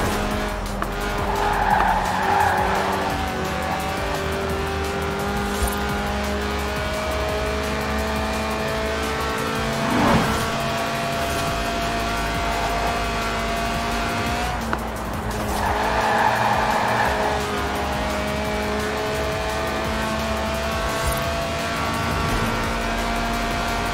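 A Lotus race car's 1.8-litre, 190-horsepower engine drones at high revs near 8,000 RPM in Forza Horizon 4 while tires squeal and skid repeatedly, the screeching swelling loud a few times over the steady motor noise.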